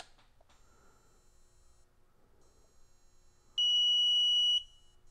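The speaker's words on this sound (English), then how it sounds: "beeps and the green LED goes solid" An E-Sky 300 V2 fixed-pitch RC helicopter transmitter gives a single loud, steady electronic beep lasting about a second while binding, after a few faint clicks in a quiet room.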